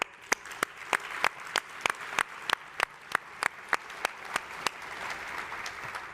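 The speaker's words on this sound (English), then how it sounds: "So just wanted to have a round of applause to thank you guys." Applause from the audience at a 2023 annual meeting: a steady run of crisp, distinct claps that sound like a fairly small group, fairly close, with no talk over them and trailing off slightly toward the end.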